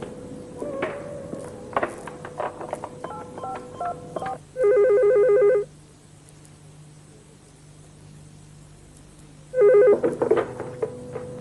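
Telephone call being placed: rapid DTMF dialing tones at the start, then two long electronic ringback bursts separated by a quiet gap, with faint room noise between.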